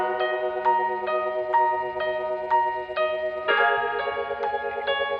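Beat intro built on sustained harmonic chords with a repeating rhythmic motif of evenly spaced plucked accents, steady and clear with no voice, the harmony shifting partway through.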